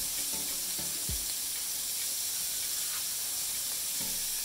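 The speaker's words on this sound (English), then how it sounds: "And then I go ahead and add the shrimps." Shrimp hitting a hot pan for a bisque give off a steady, close sizzle and hiss of frying, with a few faint clinks of cookware scattered through the steam noise.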